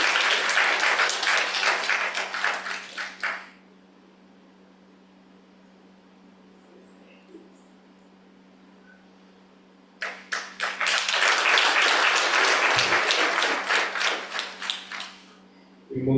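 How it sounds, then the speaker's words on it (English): Applause from an audience at a Purohit ordainment ceremony comes in two loud bursts of dense clapping, the first fading out after a few seconds and a second swell arriving after a quiet stretch with a low hum. "Give them a round of applause, ladies and gentlemen."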